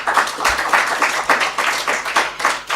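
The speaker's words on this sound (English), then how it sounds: "A big round of applause for this panel." An audience at an African congress on digital sequence information claps for a panel, giving a steady, moderately loud round of applause.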